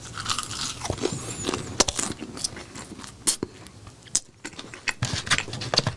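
Crisp crunching bites and chewing up close on a crispy fried KFC chicken wing, irregular crackly snaps scattered over a few seconds with no talking.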